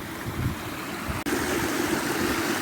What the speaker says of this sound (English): the brook's getting a little bit thinner, it's getting more bouldery and getting steeper